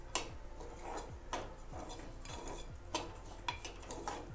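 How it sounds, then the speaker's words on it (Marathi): Wheat rava being sautéed for lapshi in a pan, with a utensil scraping and stirring in repeated soft clinks and scrapes at a steady rhythm, fairly quiet and close, no voices. "व्यवस्थित परतून घ्यायचं आहे"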